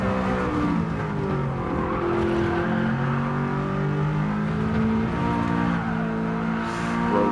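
A race car engine in Gran Turismo 7 drones steadily at high revs, loud and continuous, with pitch shifting through gear changes and occasional tire noise.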